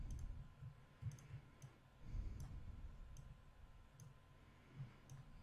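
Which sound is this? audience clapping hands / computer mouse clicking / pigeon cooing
computer mouse clicking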